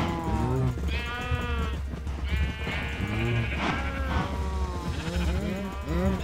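Several sheep bleat in Minecraft, with overlapping, wavering cries repeating close and loud over a constant game background hum.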